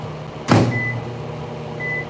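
Microwave oven heating plastisol fishing-lure plastic in a cup: a single clunk like the door closing, then a steady low hum with two short electronic beeps.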